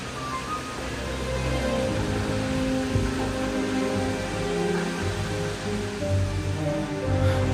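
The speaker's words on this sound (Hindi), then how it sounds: "उत्तराखंड के one of the tallest waterfalls में से एक, करीब 122 मीटर ऊंचा, ये है वसुधारा वाटरफॉल" Vasudhara waterfall, about 122 metres high, at Mana in Uttarakhand, produces a steady, unbroken rushing roar of falling water, even and constant throughout, with no voices.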